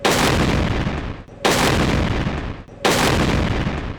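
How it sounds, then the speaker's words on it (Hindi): Booming cannon shots of a 21-gun artillery salute honouring the Emir of Qatar, three loud evenly spaced blasts roughly a second and a half apart, each decaying into a rumbling tail. "कतरी अमीर को 21 तोपों और JF-17 थंडर तैयारों की सलामी दी गई।"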